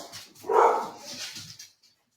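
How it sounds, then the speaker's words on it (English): Dogs barking at something in a home, a burst of a few loud, close barks with a short yelp trailing off, heard alone without talk. "My dogs are barking at something."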